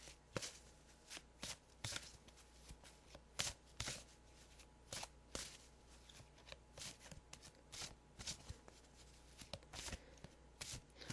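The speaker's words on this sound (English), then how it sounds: "Okay, I'm gonna cut the deck." A deck of Archangel Michael prayer cards is shuffled close by, a quiet run of crisp riffling bursts and soft slaps at irregular intervals, with no voice heard.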